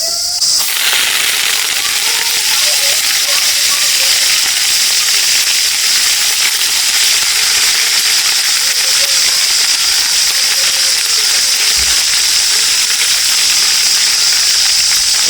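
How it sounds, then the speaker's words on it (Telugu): Dried curry leaves frying in a pan, being toasted for a curry leaf spice powder, give a steady, loud crackling sizzle with bright hiss that carries on without a break. "ఇలా ముందుగా మనం ఆరబెట్టుకున్న కళ్యామాస్ని ఇలా ఫ్రై చేసుకోవాలి"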